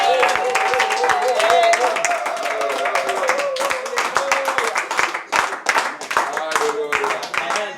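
A church congregation claps and cheers in praise, loud and close, with rapid, uneven clapping and shouted voices that rise and fall across the whole stretch.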